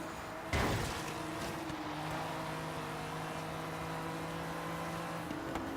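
A powerful BMW in the racing game Forza Horizon 3 drones at steady high revs, its engine note holding level after a brief louder burst near the start, straining to spin the rear tires in fifth and sixth gear.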